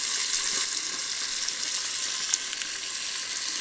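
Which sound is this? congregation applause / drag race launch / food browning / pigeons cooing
food browning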